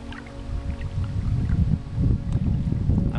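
A canoe paddled across a lake in the wilderness, soft irregular water swishes and splashes from paddle strokes against a low rumble of wind on the microphone, close and continuous, with no speech.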